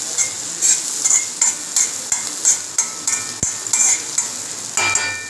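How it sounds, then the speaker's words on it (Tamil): Crushed sweet filling for red-rice and green-gram kozhukattai is mixed with grated coconut in a vessel, with close rhythmic stirring scrapes about twice a second and occasional clinks of utensil on metal, with no speech. "கூடவே ஒரு 1/2 கப் அளவு தேங்காவும் இதில் போட்டு நல்லா மிக்ஸ் பண்ணிக்கோங்க"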